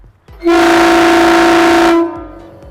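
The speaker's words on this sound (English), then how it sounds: "it will make the sound of an air horn" A loud, sustained truck-style air horn fitted to an RV blasts for about a second and a half, steady and harmonic, starting abruptly and cutting off cleanly with no talking.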